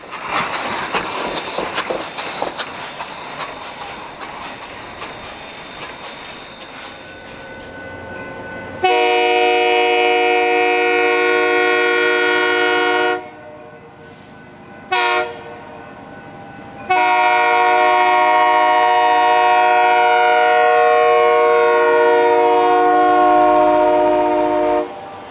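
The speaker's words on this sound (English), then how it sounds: "When the train reaches the end of the line, GP10 number 2391 takes over for the return journey." A GP10 diesel locomotive, number 2391, rumbles past pulling a train, then sounds its horn in two long, loud blasts separated by a brief pause, with clattering railcars and engine noise under and between them.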